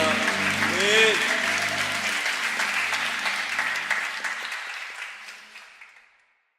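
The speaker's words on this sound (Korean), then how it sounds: "주께 영광의 박수 올려드립시다." A church congregation breaks into a sustained round of applause over lingering organ or keyboard chords, with a brief spoken word at the start, then the clapping tapers off to silence.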